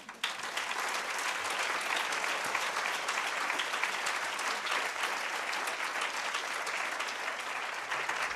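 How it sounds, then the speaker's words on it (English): Warm applause at a nursing conference, a large audience clapping in a dense, even wash that runs steadily from start to finish. "let's make him hear a very warm, loud of applause"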